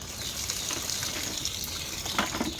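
Snails being washed in water give a steady gushing, sloshing wash that runs close and loud throughout.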